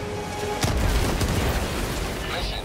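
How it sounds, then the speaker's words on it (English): A grenade goes off in a video game as one heavy boom, with crackling debris and a lingering rumble after it. A voice is heard over the noise. "Throwing grenade!"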